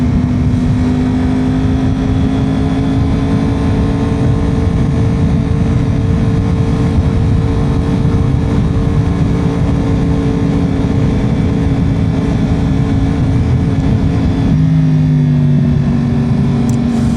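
A motorcycle cruising down a road on a warm, windy day, with a loud, constant engine drone and heavy wind roar, steady throughout, and a brief shift in engine pitch near the end.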